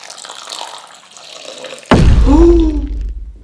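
Water gushes and splashes into a snow-making mixture, starting abruptly after a quieter stretch with faint rustling, then a loud, close pour with bubbly gurgles that slowly tapers off.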